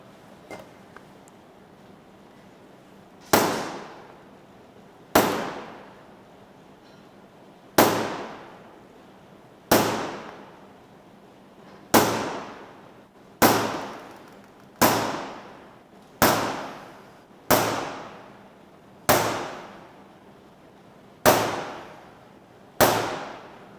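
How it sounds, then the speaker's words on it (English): Sharp metallic taps of a dot punch struck with a hammer while marking out a shape on metal, about twelve evenly spaced strikes each ringing briefly, close and loud with no talking. "So, to make it permanent, we will highlight the shape using dot punch."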